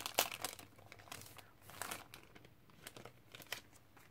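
Halloween-themed paper crinkles and rustles close up as it is unwrapped and handled, with irregular sharp crackling bursts and softer rustles in between.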